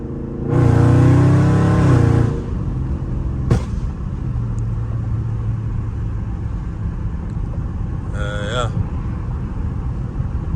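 Tuned Dodge Charger Scat Pack V8 revving hard for about two seconds with a loud roaring climb, then settling to a steady rumble with a brief sharp shift blip later, heard from inside the car.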